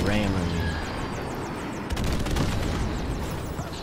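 Rapid gunfire from a first-person shooter video game plays as bursts of shots under a voice talking over the game.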